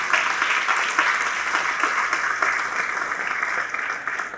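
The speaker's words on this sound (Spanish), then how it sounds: "¿Cuántos le den una fuerte aplauso al Señor?" Church congregation claps loudly for the Lord in a steady, dense burst of applause, continuous throughout with little talk.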